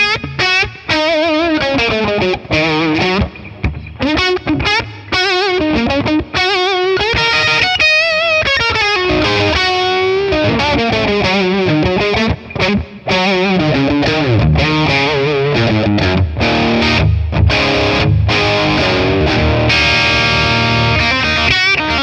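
Electric guitar played through a Matchless Laurel Canyon amp capture on a ToneX with reverb, driven rock chords and lead lines ringing continuously with a gritty, saturated tone and short pauses between phrases.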